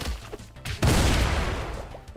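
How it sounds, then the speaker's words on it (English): Karate Survivor video game explosion: a sudden loud blast after a short lead-in of crackling game noise, followed by a thick rumbling roar that carries on to the end. "that explosion is so loud"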